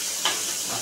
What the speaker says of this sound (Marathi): त्याचबरोबर हा हिरवी मिरचीचा ठेचा. मस्त फ्राय करून घेऊ.